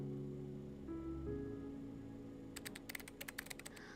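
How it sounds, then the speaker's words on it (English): Loud typing on a laptop keyboard comes in as a quick run of sharp clicking keystrokes near the end, after a soft sustained musical tone fades under it. "I only heard loud typing noises after that."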